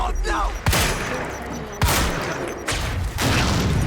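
Quantum Break gameplay: a loud explosion from a thrown grenade mixed with gunfire, a series of sharp heavy booms and bursts about a second apart over a constant rumbling battle backdrop.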